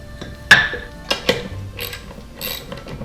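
Nut being wound along the threaded rod of a homemade cheese press, giving a few sharp metallic clicks and ratcheting taps close up, with quieter scraping between them.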